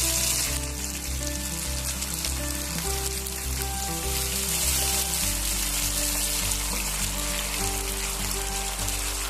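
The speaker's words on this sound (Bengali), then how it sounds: "আমি সামান্য জল দিয়ে দিচ্ছি" Loud, steady sizzling and crackling as a little water is added to tomatoes and ginger frying in a hot pan, continuous throughout with no voices.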